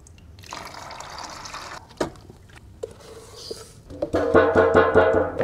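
Liquid organic fertilizer, thick and partly melted, is poured out in a steady trickling splash that builds louder and fuller toward the end, with a few sharp knocks along the way.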